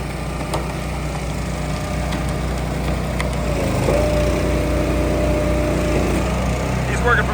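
A 12-way firewood processor at a Tennessee firewood expo runs with a steady, loud engine drone and mechanical rumble, with faint knocks and splintering wood over it and indistinct voices in the background.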